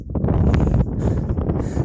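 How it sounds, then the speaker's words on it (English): Gusty wind buffets the microphone high on a mountain pass in Colorado, a loud, rumbling low roar that swells and dips without pause for the whole stretch. "Sorry, it's windy up here"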